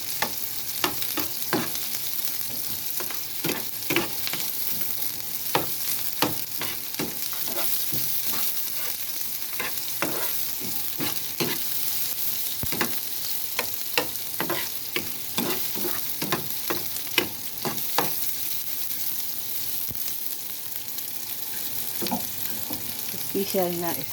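Sardines with ginger being stirred in a hot pan for a simple home-cooked dish, a steady sizzle running throughout with repeated sharp spoon scrapes and clicks against the pan at an irregular rhythm, close and fairly loud.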